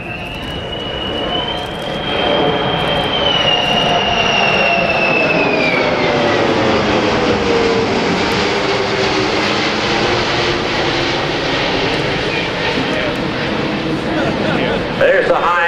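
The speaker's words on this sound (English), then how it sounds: "There's the high-speed pass of the C-5M." A C-5M Super Galaxy military airlifter roars past in a high-speed pass at an airshow, its loud whining engine tone sweeping downward as it passes and trails into a broad rushing rumble.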